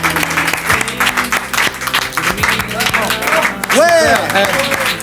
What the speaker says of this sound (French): On ne peut que l'applaudir très très fort.